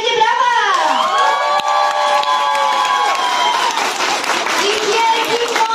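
A crowd at a children's Odyssey of the Mind competition cheers and applauds as a city preschool group from Łódź is announced, with loud children's shouts and whoops over continuous clapping.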